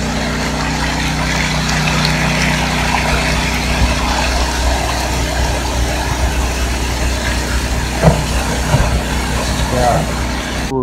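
Vibrating spinning bowl on a gold mining test plant, a continuous low mechanical hum and rattle beside a running engine, with someone talking over it.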